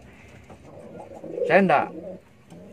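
A pet pigeon or dove gives a short, throaty cooing burst near the microphone, rising and falling over about half a second, amid quiet talk before and after.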